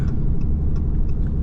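Steady, close engine rumble from a new work pickup truck using its engine brake while hauling a Cat D3 dozer down an Interstate on-ramp, with faint rhythmic ticking over the drone.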